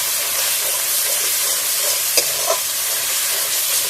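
Spice masala for egg curry, with chilli and turmeric, sautéing in a pan: a loud, dense sizzle with a couple of sharp spatula knocks, and no talking.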